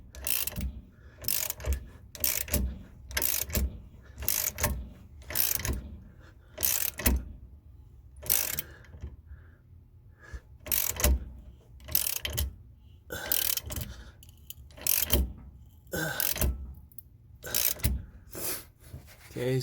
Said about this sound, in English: the wheel stud is slowly being pulled in.